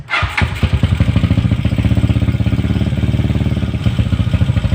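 A motorcycle engine fires up after its carburetor has been cleaned, catching almost at once and settling into a loud, steady, rapid idle chatter close to the microphone.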